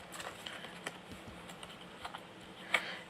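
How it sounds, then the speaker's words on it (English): Oracle cards being shuffled give soft, irregular clicks and light tapping patter close by, with one sharper snap near the end and no speech. "Okay, let me shuffle."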